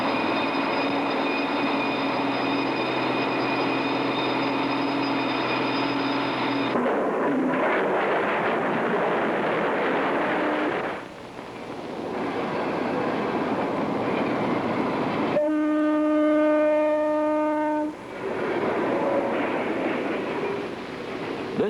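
A fully automatic iron ore train at a mine rumbles steadily along rails with continuous rolling noise, occasional high squealing tones from the wheels, and no voices.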